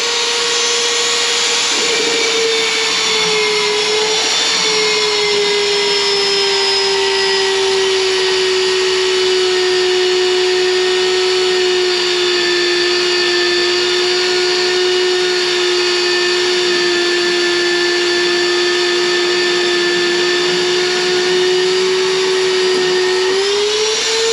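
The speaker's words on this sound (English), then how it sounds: "First hole drilled." A Vevor magnetic drill bores a hole in metal with lubricant flowing, giving a loud, steady high-pitched whine that holds for the whole stretch with a slight dip in pitch near the end, with no talking over it.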